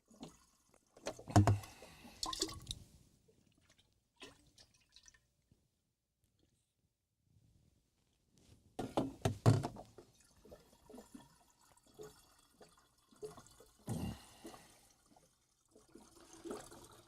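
Water is fetched and poured or dripped in a workshop, with intermittent splashing and trickling bursts separated by quiet gaps, close and moderately loud.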